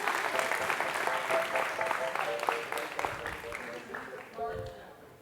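Audience clapping fills a tech conference hall after an illusionist's demonstration, loud at first then thinning and fading near the end, with a few voices and laughter mixed in.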